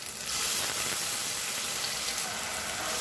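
Ground coconut paste hits hot oil with sauteed onion masala for a baby jackfruit masala dish, setting off a loud, steady sizzle and frying hiss throughout, close up and without talk.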